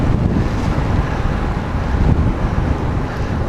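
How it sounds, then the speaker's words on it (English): Loud, steady wind buffeting the microphone, a constant low roar with no voices. "I'm not dealing with a headwind anyway"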